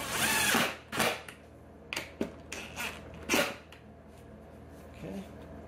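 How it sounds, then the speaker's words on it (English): A power drill drives a bolt into a Club Car Precedent golf cart seat in a series of short, sharp whirring bursts separated by pauses, close to the microphone. "Already got another bolt here in the drill ready to go."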